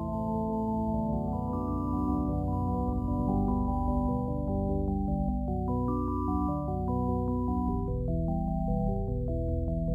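A B.I.T. synthesizer plugin played from a MIDI keyboard with delay set fully wet, a run of clear melodic notes that repeat and trail into echoes, layering into a dense, continuous texture.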